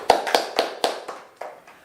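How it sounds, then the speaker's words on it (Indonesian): A group of mothers at a community session claps together in a steady rhythm of about seven crisp, fairly close hand claps, each one softer than the last. "tepuk tangan dulu ibu-ibu"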